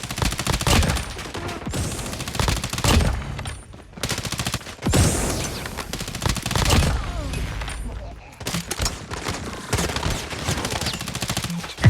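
Rapid automatic Fennec gunfire in a first-person shooter free-for-all match dominates, dense bursts of shots with brief gaps, loud and close, while someone talks over the action.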